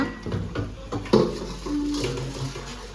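Dishes clatter and clink in a sink, with a sharp knock of crockery midway and a soft running-water wash underneath.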